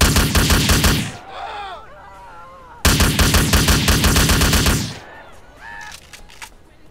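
Two long bursts of rapid, loud AK-47 automatic fire from the GTA video game, each lasting about two seconds and separated by a short pause, with no talk.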